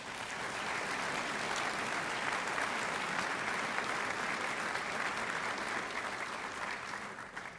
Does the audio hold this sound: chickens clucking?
no